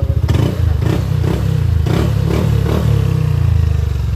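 A motorcycle fitted with an aftermarket exhaust pipe revs loudly up close, a throaty rumble rising and falling in repeated surges with some rattling clatter, no voices.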